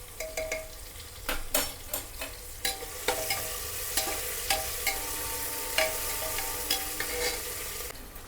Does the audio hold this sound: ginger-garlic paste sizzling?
yes